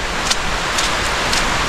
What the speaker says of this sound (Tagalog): Wala na namang tigil yung ulan mga silo.